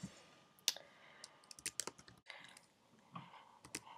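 Typing on a Mac computer keyboard during a software setup, with quiet, irregular key clicks, some louder taps, close and alone.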